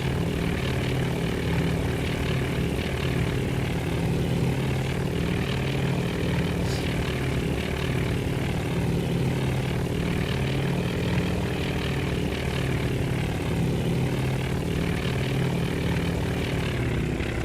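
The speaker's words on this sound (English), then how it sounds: "Aircraft are currently landing." Propeller aircraft engines drone steadily as planes land on a carrier during the Battle of Midway in Task Force Admiral, a continuous, even roar with no voices.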